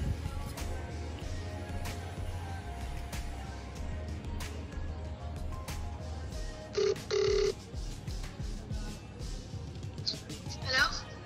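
Outgoing call rings from a cellular Apple Watch, two short electronic ringback tones heard faintly under someone talking, with background room noise throughout.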